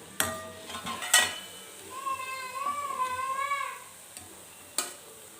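Sweet fritters made from leftover chapati fry in oil with a soft sizzle, broken by a few sharp clinks of a utensil against the pan. A thin, wavering child-like voice or squeak rises over the middle.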